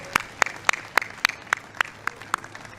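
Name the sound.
applause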